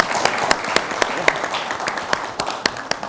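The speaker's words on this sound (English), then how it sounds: "But please, let's give them a round of applause" Scattered hand clapping from a symposium audience applauding a panel in Washington DC, sparse individual claps rising out of a murmuring room with no sustained burst of applause.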